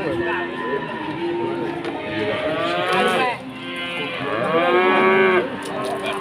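Pegon cattle moo loudly and nearby in long, drawn-out calls, several in succession, while people talk in the background.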